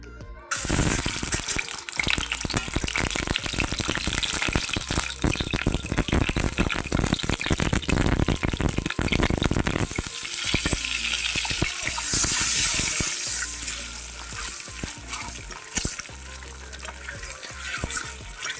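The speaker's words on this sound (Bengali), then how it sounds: "আর ডিমগুলো আমি ভাজা করে নেব।" Eggs fry in a little oil in a wok, a steady loud sizzle and crackle with scraping and stirring noises running through nearly the whole stretch and easing slightly toward the end.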